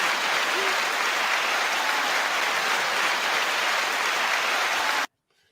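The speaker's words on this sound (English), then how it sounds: "So Curtis King, 9 second applause." A crowd applauds steadily for about five seconds, a dense even clatter that cuts off abruptly into near silence.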